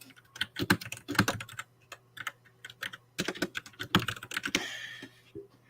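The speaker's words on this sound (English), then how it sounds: "Sorry if y'all hear my keyboard in the background." Rapid clacking of computer keys in bursts, with short pauses between flurries of typing, close and crisp.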